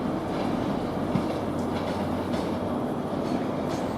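A Class 91 electric train rolls past nearby with a steady rumble of wheels and rhythmic clatter over rail joints, continuous for several seconds.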